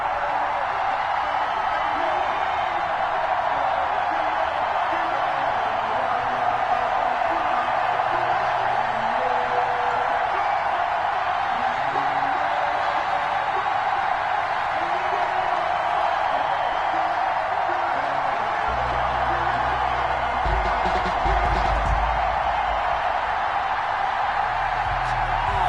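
Roaring stadium crowd at a sellout NFL game in Madden 21, Seattle Seahawks visiting the Atlanta Falcons, a steady dense wall of cheering that holds throughout, with a deeper rumble swelling near the end.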